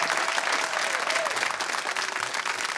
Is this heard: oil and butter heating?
no